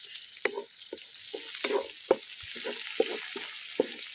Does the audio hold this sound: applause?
no